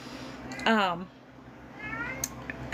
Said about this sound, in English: Sorry, and I apologize for my cat.